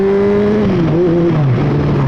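A Honda CBR600F motorcycle engine with a decat exhaust revving loudly up close, its raspy exhaust note rising and falling as the throttle is worked, with no speech.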